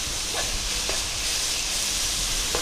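Onions sizzle steadily in a hot pan for a curry, a continuous hiss and crackle with a few faint clinks over it and no talking.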